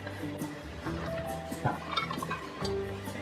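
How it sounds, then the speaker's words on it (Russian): Chopped orange peel cubes tumble into a saucepan, giving soft clinks and light taps against the metal, fairly faint, with a few scattered knocks. "Порезанные корки перекладываю в кастрюлю."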